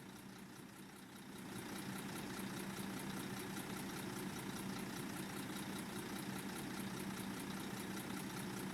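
In the bus simulator OMSI 2, the engine of a FirstBus Coastal Reds B7TL Gemini double-decker idles. It is quiet at first, then a steady low rumble with a fast regular pulse settles in and continues evenly, with no talk.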